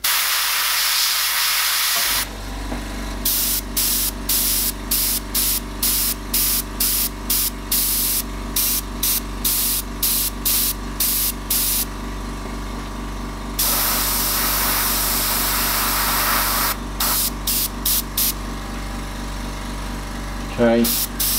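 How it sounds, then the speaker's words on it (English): An airbrush sprays paint while a tiger is being painted, a sharp hissing spray that comes in short repeated bursts between pauses, over a constant compressor hum. "I'm just going to put a light mist in the legs"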